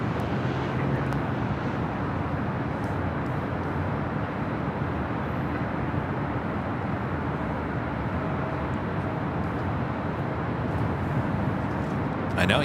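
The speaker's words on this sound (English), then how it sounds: "Southwest Airlines Flight 4340 coming in from San Antonio, 737-800 up next for an arrival here on the north side" Southwest Airlines Boeing 737-800 arriving at Los Angeles International Airport on the north side, a steady broadband jet roar that holds loud and even throughout, close and continuous.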